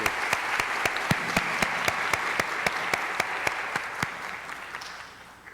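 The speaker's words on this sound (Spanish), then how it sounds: "les pido un fuerte aplauso para Fray Nelson" An audience welcomes the speaker Fray Nelson with applause at a family-themed talk, sharp claps falling into a steady rhythmic beat over a softer wash of hands before slowly fading.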